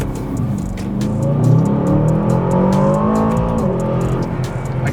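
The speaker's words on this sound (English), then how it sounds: "I can hear the whooshing from the turbocharger, and I could also hear the exhaust" A 2023 Aston Martin DBX707 SUV engine revs and pulls strongly, with a deep rumbling exhaust and a rising airy turbocharger whoosh, loud and close, with no talking.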